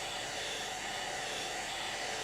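A heat gun on its low setting blows hot air in a steady, even broadband rush, close and constant with no other sounds.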